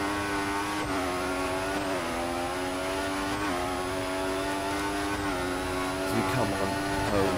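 Formula 1 race car engine in the F1 2014 video game at Hockenheim, a loud high-pitched whine held near the driver, dipping and climbing through repeated gear shifts across the lap.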